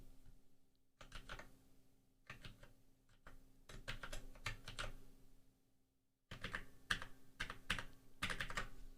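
Fast typing on a Windows computer keyboard, with bursts of clattering keystrokes separated by short pauses, close and fairly loud with no speech.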